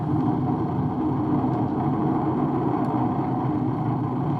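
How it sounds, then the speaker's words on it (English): The Artemis 1 SLS rocket lifts off, its four RS-25 core-stage engines and two solid rocket boosters making a steady, dense low roar that holds without a break, heard at a distance with no voices. "All 4 RS-25 engines on the core stage and 2 solid rocket boosters now propelling the vehicle at 128 miles per hour."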